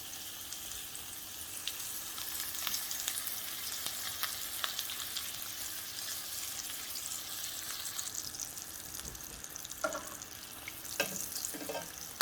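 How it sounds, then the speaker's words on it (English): Steady crackling sizzle of tacos frying in hot oil, continuous and fairly soft, with a few faint clinks near the end. "And now it's a matter of starting to fry your tacos"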